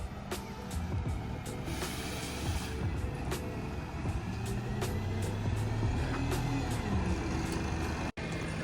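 London bus on route 378 pulling toward Mortlake bus station, a steady low engine rumble under continuous outdoor traffic noise with repeated faint ticking clicks, no talking.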